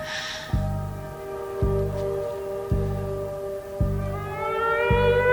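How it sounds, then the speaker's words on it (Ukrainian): An air raid siren in a Ukrainian TV drama sounds with long sustained wailing tones, while a deep rhythmic thumping pulse repeats about once a second underneath. "У Києві оголошена повітряна тривога."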